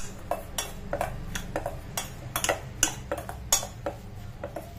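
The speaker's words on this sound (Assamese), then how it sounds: "দৈ মই 1 চামুচ আৰু অলপমান দিলোঁ দি গোটেইখিনি ভালদৰে লৰাই দিছোঁ" Soybean chunks are mixed with red chili powder and a spoonful of curd in a bowl. A spoon scrapes and clicks against the bowl in quick, uneven strokes, close up, with no voices.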